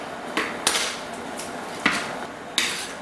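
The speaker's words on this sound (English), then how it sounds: "I'll just be over here just chopping my onion." Knife chopping an onion on a cutting board in a home kitchen: four or five sharp, crisp knocks at an uneven pace, close and clear, with no talking.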